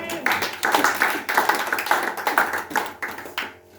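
A church congregation applauds, with continuous, fairly loud clapping from many hands that swells and dips for several seconds before fading out at the end.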